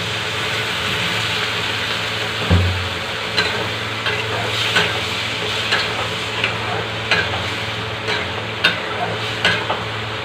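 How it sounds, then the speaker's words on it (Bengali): Fried bottle gourd sizzles steadily in a pan as a little water is added, a continuous hiss with a brief burst around the pour, then light scraping and stirring clicks scattered over the frying. "ভেজে নেওয়ার পর দিয়ে নেব সামান্য একটু জল"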